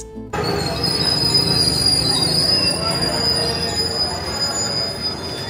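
The Teesta Torsa Express train rolls into Azimganj Junction with sharp, sustained wheel squeal over a loud rumble, then cuts off abruptly at the end.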